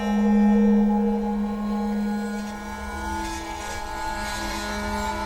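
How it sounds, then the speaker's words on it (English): Long sustained bowed string notes drone with a slightly rough, scratchy edge, several pitches layered and held steadily throughout. "a lot of these very long, sustained bow draws. Sometimes they even sound a little bit scratchy"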